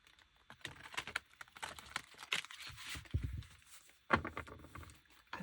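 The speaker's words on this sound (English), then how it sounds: "I'm going to do a quick shuffle here" Tarot card deck being shuffled up close: quick papery riffles and crinkling bursts come in uneven clusters, with a sharper flurry near the end.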